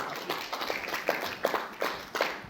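Audience at a roundtable discussion on shared space tech amenities clapping, a sparse, fairly close patter of individual claps with uneven rhythm lasting a couple of seconds.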